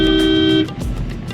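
A motorcycle on a road at night gives a single short, loud horn blast of about half a second, followed by the rough rumble of the passing vehicle.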